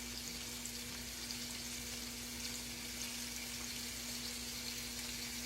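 Squash stir frying in a pan on a stove, a steady, faint sizzle that runs evenly throughout with no talking.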